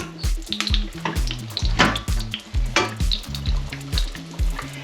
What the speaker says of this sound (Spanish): La rebanada de pan tiene que estar bien frita.